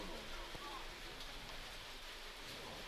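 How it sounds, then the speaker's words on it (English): Steady, faint rain falls at an outdoor high school baseball game, an even hiss of drops across the whole stretch with no clear breaks. "And the rain is coming down now."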